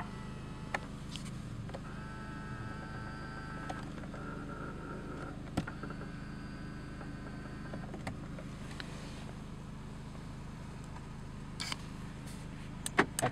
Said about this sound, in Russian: открываем, закрываем окна.